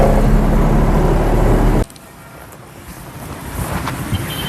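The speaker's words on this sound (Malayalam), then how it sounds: "കാറ്റ് വന്നപ്പോ നല്ല രസം" Strong wind buffeting outdoors near Mullaperiyar water by a paddy field close to K.K. Patti, a loud rushing roar that cuts off abruptly, leaving a quieter airy background that swells again slightly toward the end.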